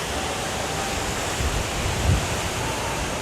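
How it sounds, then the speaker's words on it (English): Heavy water spray at a Six Flags Fiesta Texas theme park blows sideways in strong wind, making a steady, loud broadband rush with a few low gusty swells. "Now water's going sideways today. We got some crazy spray coming off."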